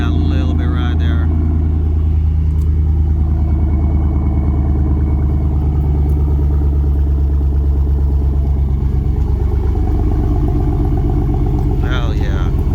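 Truck exhaust fitted with 5-inch Carven black ceramic tips gives a deep, steady idling rumble, loud and close throughout, with brief voices near the start and end.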